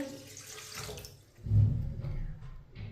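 A glass of water splashes onto rinsed masoor lentils in a cooking pot, a brief close pour that swells in the middle and then fades, with no talking.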